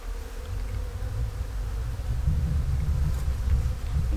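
Honeybees buzz at a beehive being prepared for winter in Kentucky, a dense, continuous, close drone with no talking.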